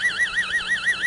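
A theta-band brainwave signal from psychotronics research, amplified from electrode readings and played back as an audible tone: a steady electronic whine that wobbles up and down in a regular rapid warble, continuous and alone.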